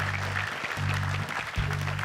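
Studio audience clapping on a comedy game show, a steady dense patter running the whole stretch over a low musical hum, moderately loud and fairly close.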